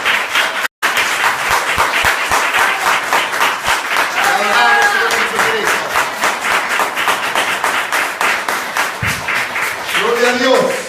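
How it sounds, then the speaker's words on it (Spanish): A church congregation applauding during a Sunday service, loud rhythmic clapping from many hands that holds steady for several seconds, with a voice talking over it at times. "Dale un fuerte aplauso al Señor Jesús."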